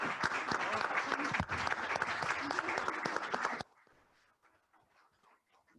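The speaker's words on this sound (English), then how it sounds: "And so I'd like all of us to help me also give a big round of applause to Ruka for the leadership." Audience applause at a climate innovation dialogue event in Ghana, loud dense clapping for over three seconds that cuts off abruptly to near silence, followed by a few faint scattered claps.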